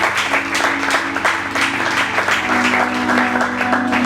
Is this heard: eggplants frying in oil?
no